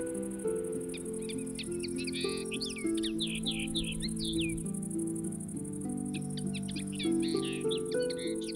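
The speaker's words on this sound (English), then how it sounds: "the migratory birds that move between Africa and Europe stop over on the islands" Small migratory birds stopping over on Italian islands give quick, high chirping calls in two bursts, set over a steady bed of sustained music tones and a constant high insect-like hiss.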